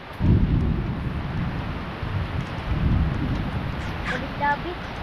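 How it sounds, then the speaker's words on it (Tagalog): Heavy rain pours down in a forest with a deep rumble of thunder, a dense steady wash close around, while voices talk over it. "Utoy, lakas ng ulan."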